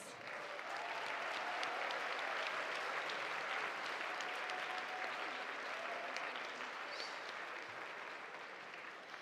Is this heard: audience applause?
yes